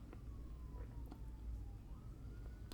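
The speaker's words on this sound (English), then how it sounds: "I'm hearing sirens." A distant emergency siren wails faintly, its pitch sliding slowly down and then back up over a low background rumble, heard indoors at low volume.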